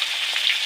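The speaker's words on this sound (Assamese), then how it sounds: "আজি দুমাহীৰ মাছ ভাজি আছে মায়ে" Fish sizzles in hot oil in a home kitchen during a Domahi festival meal, a steady bright frying hiss with no voices.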